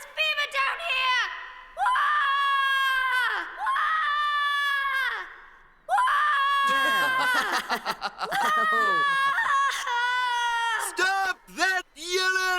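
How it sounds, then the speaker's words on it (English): Animated characters from the Redwall cartoon series yell, wail and cry for help in loud, drawn-out shouts, several voices overlapping with sobbing and snickering across a long stretch. "Stop that yelling"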